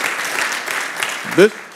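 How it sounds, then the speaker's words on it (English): Short stretch of audience applause at a university AI symposium, steady and moderately loud, with a voice speaking over it near the end. "Please give him applause"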